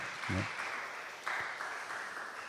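A church congregation at a Sunday worship service claps in a brief, moderately faint burst of applause. The clapping is steady and fills the room, then renews briefly after a short dip.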